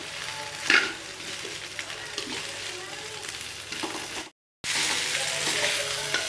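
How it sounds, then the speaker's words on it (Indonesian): Eel frying in spices in a pan, a steady close sizzle with scraping stirring strokes and a brief knock of the utensil, then a short silence before the frying resumes. "Selanjutnya kita masukkan belut. Kita aduk-aduk supaya bumbunya meresap."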